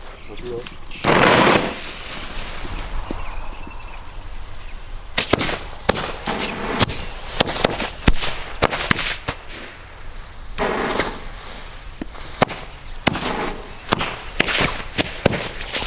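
Funke type C Knallfrosch jumping firecrackers going off outdoors: a string of loud, sharp bangs and cracks in irregular bursts, with people talking at times between the pops.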